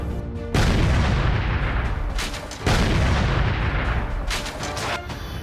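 Heavy gunfire and a deep, booming explosion roar continuously during an army encounter with militants in Kashmir, with bursts of shots cracking over a loud rumbling background throughout.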